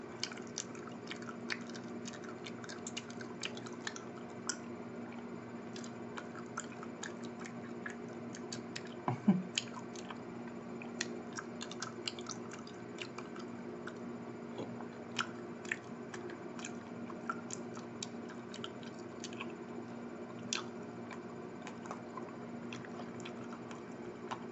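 Fast open-mouth gum chewing with wet smacking, close-miked for ASMR, keeps up a continuous rapid patter of small clicks and squelches at low level with no talking.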